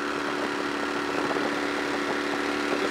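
A Johnson outboard motor roars steadily at full throttle on the water, a dense, constant buzzing engine drone without pauses, close and loud.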